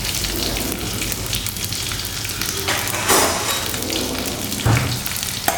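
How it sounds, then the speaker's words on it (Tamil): Dried chillies and small onions sauté in a hot pan for a Tamil buttermilk curry, giving a steady close sizzle and crackle with occasional louder stirring scrapes and no talking. "காஞ்ச மிளகா, அப்புறம் நம்ம கட் பண்ணி வச்சுருக்கிற சின்ன வெங்காயம், இதை போட்டு நல்லா வதக்கிடணும்."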